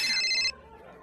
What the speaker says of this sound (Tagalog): yung cellphone mo nagre-ring